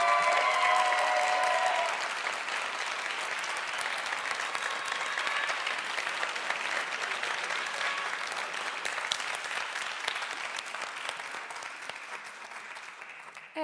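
A studio audience at a Neapolitan talent show applauds the contestants in a long, dense burst. The clapping is strongest at the start, then settles into a steady, even patter that runs on without a pause.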